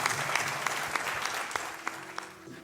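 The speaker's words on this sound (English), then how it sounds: "Let's give them a round of applause." Audience applause at a city council meeting honoring volunteers, a steady, dense patter of many hands clapping at moderate volume throughout, with individual sharp claps standing out.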